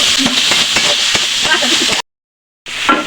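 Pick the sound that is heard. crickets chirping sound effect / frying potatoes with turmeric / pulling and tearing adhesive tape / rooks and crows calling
frying potatoes with turmeric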